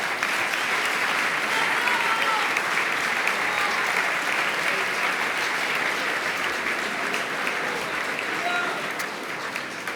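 Sustained applause from an audience at an Argentine ceremony unveiling a bust of Néstor Kirchner, steady and dense for the whole stretch, easing slightly near the end.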